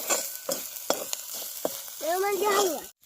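Mutton curry with spice powder is stirred in a pan: a series of sharp scraping strokes over a soft sizzle, close by, with a brief vocal-like squeal of the pan before an abrupt cut.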